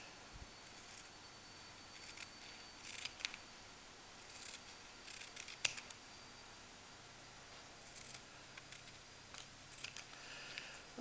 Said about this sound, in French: Donc, je vais les couper.